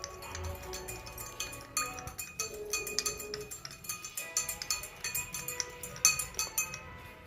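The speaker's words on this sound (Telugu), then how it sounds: "ఇలాగా బాగా షుగర్ వాటర్లో మెల్ట్ అయ్యేలాగా కలుపుకోవాలి." A spoon stirs sugar into a glass of water, making quick, bright clinks against the glass in a fairly regular rhythm, close and fairly quiet, with no voices.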